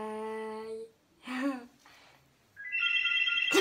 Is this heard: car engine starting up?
no